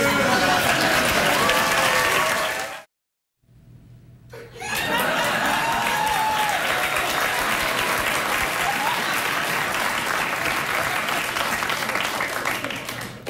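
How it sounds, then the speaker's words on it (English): A late-night talk show studio audience applauds loudly with scattered laughter and whoops, cut by a brief silence before the clapping resumes and continues steadily. "They're not applauding for me, son."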